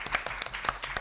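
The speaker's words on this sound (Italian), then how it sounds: "Facciamo un applauso a queste giovani studentesse" An audience applauds a pair of young classical-high-school students at a book event, giving a short burst of close, sparse, uneven hand claps.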